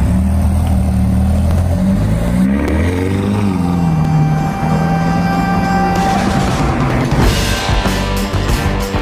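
Ferrari sports car engine revving and accelerating, loud and close. The pitch climbs and falls through the gears, then gives way to a burst of rising, harsher noise toward the end.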